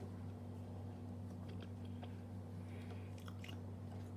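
Someone chews a strawberry mochi with soft, close squishy bites and faint wet crunches, spaced irregularly over a low steady hum.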